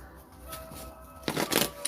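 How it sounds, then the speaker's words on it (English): Tarot cards being shuffled by hand, a soft low rustle for most of the stretch, then louder riffling bursts near the end, fairly close with no talk over it. "I'm also really useless at shuffling the tarot cards."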